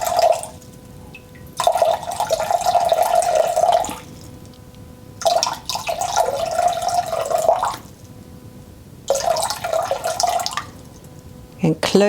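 Filtered water is poured into a container for spelt sourdough, three separate bursts of steady trickling close by, each lasting a couple of seconds, with quiet gaps and faint talk between them.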